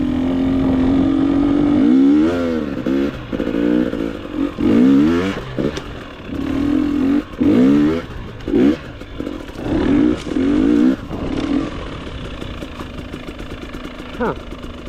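A GasGas EX250 dirt bike being ridden, its engine loud and close, revving up and down in repeated surges and dropping back to idle, with a voice talking over it at times.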